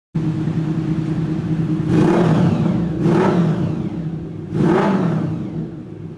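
A Honda VFR 750 motorcycle engine idles close by with its carburetors badly out of sync, then gives three sharp revs in quick succession before settling back to a rough idle.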